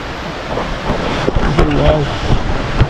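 Kirindi Ella waterfall near Pelmadulla, Ratnapura, Sri Lanka, roars close by as a constant broadband rush of water. A voice talks over it.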